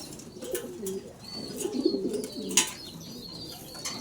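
Low, throaty pigeon coos repeat over a soft background murmur, with a brief high chirp near the end.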